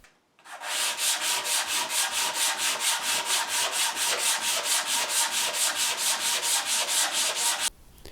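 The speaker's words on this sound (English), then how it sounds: "sanding out any inconsistencies on the top and the back" Steady, rhythmic back-and-forth sanding strokes rasp against the wooden top and back of an ES-335 style guitar body, loud and close, continuing without pause for several seconds.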